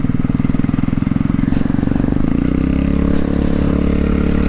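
Honda Grom motorcycle riding and slowing down with a slipping clutch, its steady engine drone and low putter continuous and close throughout, easing slightly toward the end.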